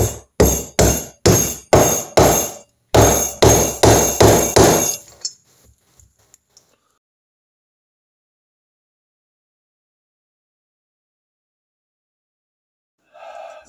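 Metal hammer blows drive a socket against a gearbox seal carrier on a Triumph Trident T160 outer gearbox cover, about a dozen sharp, loud, evenly spaced strikes in two bursts, then near silence with a few faint ticks.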